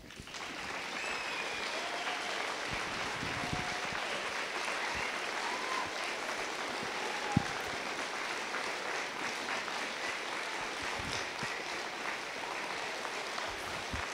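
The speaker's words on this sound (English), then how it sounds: "could you please stand and let's give them a round of applause" A seated audience stands and applauds a school's teachers and staff, sustained dense clapping held at an even level for a long stretch, with no voices over it.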